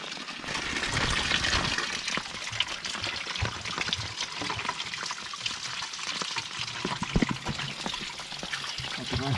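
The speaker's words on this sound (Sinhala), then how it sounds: "ඔන්න අපි ආවා වැස්සෙම වතුර අරන් යන්න." Rainwater trickles and splashes outdoors during a thunderstorm while being collected at a mountain campsite, a steady close wash of dripping and pouring water with intermittent knocks and voices talking beneath it.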